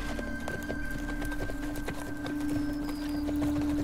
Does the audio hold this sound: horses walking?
yes